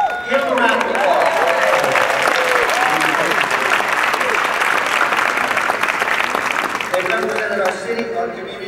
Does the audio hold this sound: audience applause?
yes